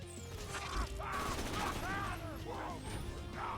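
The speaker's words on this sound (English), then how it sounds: "Shoots a ricochet orb that beams down a devastating explosive laser." A ricochet orb fires an explosive laser in a modded shooter game, releasing a string of loud, punchy bursts and booms with sweeping electronic tones between them.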